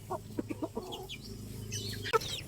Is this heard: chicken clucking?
yes